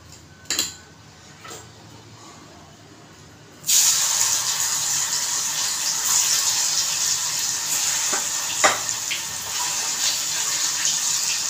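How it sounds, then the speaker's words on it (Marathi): After a few quiet seconds with a couple of clinks, loud continuous sizzling of paneer frying starts abruptly and carries on, with occasional utensil taps. "उकळी काढेपर्यंत मी हे फ्राय करते."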